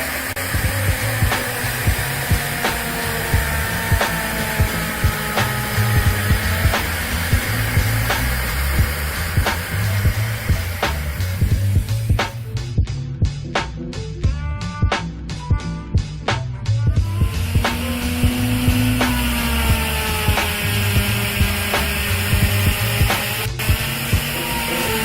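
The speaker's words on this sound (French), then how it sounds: "J'allume également l'aspirateur." A workshop dust-extraction vacuum runs steadily alongside a portable power tool fitted with a bit, a continuous whirring drone with a denser rattling burst midway, close and loud with no talking.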